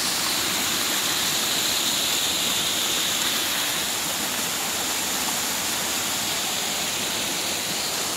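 Kataw Falls in a forest in Tangalan, Aklan pours steadily, a broad, constant rushing roar of falling water filling the scene without pause or voices.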